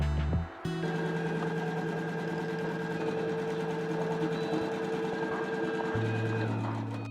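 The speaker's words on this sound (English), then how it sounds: "Now let's bring this onto the embroidery machine to stitch the placement line." An embroidery machine stitches a placement line on hooped fabric for a mug rug, a continuous close mechanical hum with fast needle chatter that shifts pitch near the end, with no voices.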